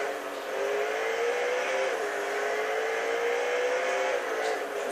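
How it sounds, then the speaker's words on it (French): Koenigsegg GT1 race car engine heard from onboard while driving the Long Beach street circuit in California: a steady, loud engine drone with small pitch shifts as the revs change, continuous throughout. "là on est à Long Beach, en Californie, aux États-Unis, au volant de la Koenigsegg modèle GT1"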